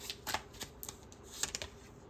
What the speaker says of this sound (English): Let's get one more card from this deck.